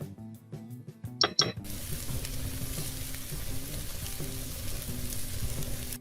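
Kochur mukhi (taro) frying with oil, salt, turmeric and chili powder in a pan on a high flame, alongside shrimp. A few sharp clicks and stirring knocks come first, then a steady, close sizzle carries on throughout.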